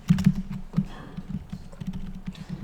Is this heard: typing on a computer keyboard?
yes